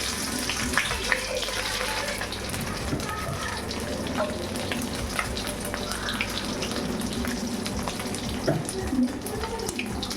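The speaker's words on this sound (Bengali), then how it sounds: "জল ঢেলে দেবো অল্প করে একটু ঝাল হবে বেশি জল দেবো না" Water pours into a pan of frying mourala fish being made into a spicy jhal, a continuous gushing, bubbling wash of liquid running steadily throughout with light kitchen clatter beneath.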